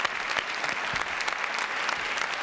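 Sustained applause from a French TV talk-show studio audience greeting an arriving guest, a busy crackle of many hands with a few sharper claps standing out, continuous and fairly close.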